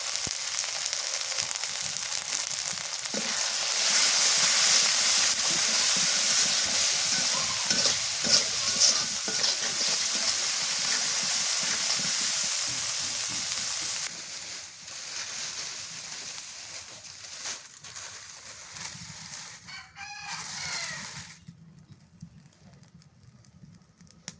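Small boal fish fry in a pan, a loud continuous sizzle with the scrape of stirring, easing to a softer sputter toward the end.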